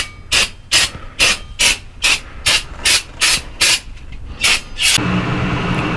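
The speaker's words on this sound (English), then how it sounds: "we're just going to go ahead and we're shooting it with brake clean" Brake cleaner sprayed onto a part being prepped for powder coating, about a dozen sharp, close hissing bursts in a quick regular rhythm, then a steady fan drone takes over.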